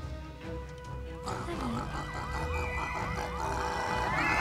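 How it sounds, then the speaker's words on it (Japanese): A police car siren in the video game Luigi's Mansion 3 wails up and down repeatedly over a dense background hum, starting after a second and growing slightly louder. "パトカーがいます"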